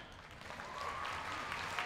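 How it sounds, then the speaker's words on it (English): Audience applause at a school district orchestra festival, a short steady clatter of clapping from a crowd. "Round of applause for"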